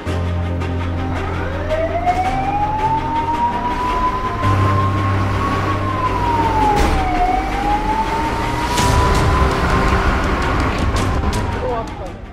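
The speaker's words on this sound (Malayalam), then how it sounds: "ചുമന്ന വണ്ടി, പലതരത്തിലുള്ള നീലയും ചുവപ്പുമായിട്ടുള്ള വെളിച്ചവിട്ടൊരു സൈറൺ മുഴക്കിയിട്ട് റോഡിലൂടെ പല രീതിയിൽ ഹൈ സ്പീഡിൽ പാഞ്ഞു പോകുന്നത്" A red fire-service truck in Kerala, lights flashing, races along a road with its siren wailing in long rising and falling sweeps, loud and close over a rumbling engine and traffic.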